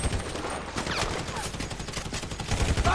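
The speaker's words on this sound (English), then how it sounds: "So I guess we're shooting our way out of here!" Rapid gunfire from a GTA 5 mission rattles in dense, continuous volleys, loud and close, with no clear pauses.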